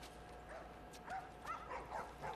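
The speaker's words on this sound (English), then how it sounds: "that dog over the right is so cute" A dog in the video game The Last of Us Part 1 gives a few soft yips and whimpers, faint and off to one side over a steady hiss of ambient game sound.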